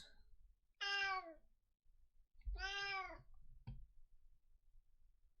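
A cat meows twice close to the mic, two drawn-out wavering cries with a short click or knock after the second, set against quiet room hum.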